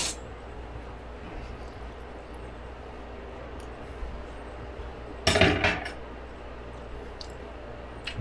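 A spoon clinks against a bowl of taco pasta salad, one sharp metallic clatter midway in an otherwise quiet kitchen with faint small taps.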